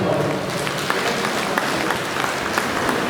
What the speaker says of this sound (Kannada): ದೊಡ್ಡ ಚಪ್ಪಾಳೆ